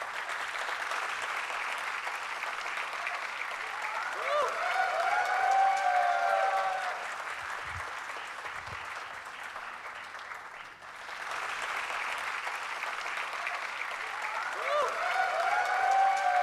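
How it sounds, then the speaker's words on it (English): A dense, sustained wash of applause from an audience greeting a keynote speaker at a business event, with tonal music running underneath, dipping briefly midway before swelling again. "Let us all join together in a resounding round of applause for Aman."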